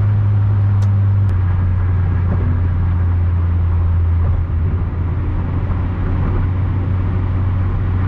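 A 2002 Mitsubishi Lancer at full throttle on a highway, heard from inside the car as a steady, loud low engine drone with road and wind roar and no talk.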